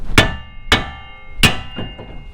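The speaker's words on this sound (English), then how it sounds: "just a couple of taps with a big hammer and we're good to go" A big hammer strikes a fairly new tie rod end on a GMC Yukon or Chevy Tahoe suspension to knock it loose, four sharp metallic blows ringing close up with uneven pauses between them.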